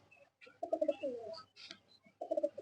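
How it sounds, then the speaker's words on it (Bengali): Eye-star silver Bagha and Bagha pigeons coo close by in soft, throaty rolling phrases, with one longer burst, a brief pause, then another coo starting, with no talking. "অনেক ছটপটা কবুতর এগুলো"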